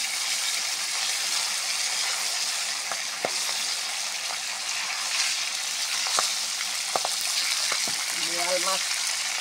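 Boal catfish fries in oil, giving a loud, even sizzle that fills the whole stretch, with a few clicks and knocks from handling in the pan and a brief voice near the end.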